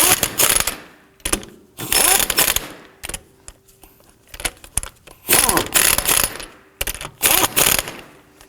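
A hand ratchet snugs down the lug nuts on a 2005-2009 Subaru Legacy, loud, close bursts of fast metallic clicking repeated several times with short pauses between them, no talking.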